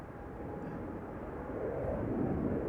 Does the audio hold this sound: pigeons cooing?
no